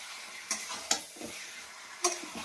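Chicken pieces stir-fried in a pan for a spicy homemade chicken kosha, with a few sharp scrapes and clacks of the spatula over a quiet, steady sizzle.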